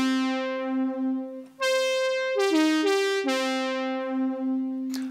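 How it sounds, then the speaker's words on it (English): A brassy Oberheim-style synthesizer patch plays a bright, sustained lead line for a track, holding long notes and stepping up and down in pitch, alone and fairly loud after a brief gap. "So it's kind of an Oberheim brass type of sound."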